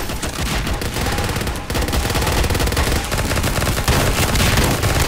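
Rapid automatic gunfire rattles continuously in a Garry's Mod multiplayer boss fight, loud dense bursts of shots running almost without pause across the whole stretch.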